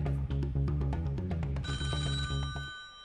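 A telephone rings on a Polish phone-in radio quiz show, a steady electronic ring tone that enters partway through over loud rhythmic music.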